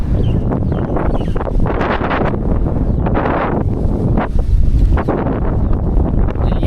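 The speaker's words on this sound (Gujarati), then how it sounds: "સામેથી એટલી હવા આવે અને કે સાયકલ ચલાવતી જ નહીં" A strong headwind hits a cyclist riding from Somnath toward Dwarka, roaring and buffeting the microphone in uneven gusts that stay loud throughout, with no talk.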